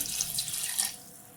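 Water pours from a tap into a pressure cooker holding goat legs, a close splashing rush for about a second before it trails off quietly.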